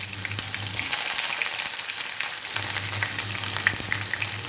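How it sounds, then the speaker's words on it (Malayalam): Thinly sliced shallots sizzle steadily in hot oil in a pan while being sautéed for a Kerala varutherissery curry. The frying is close, even and continuous, with no talking. "കളർ മാറുന്നത് വരെ ഒന്ന് വഴറ്റിയെടുക്കണം"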